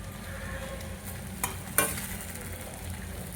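Turmeric in hot oil for poha with peas gives a quiet, steady sizzle, with a couple of brief spatula scrapes near the middle and no voices.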